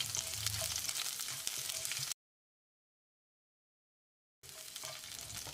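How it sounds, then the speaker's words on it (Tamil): Fenugreek seeds and crushed garlic fry in hot oil for a chickpea rasam, a close, steady sizzle with faint stirring, cut by a silent gap before the hiss resumes. "இதை போட்டு ஒரு 10 செகண்ட் பிரட்டி விட்டுடலாம்"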